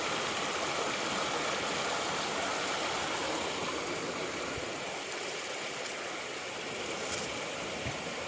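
Creek water flows steadily, a constant close rushing and gurgling that continues without pause.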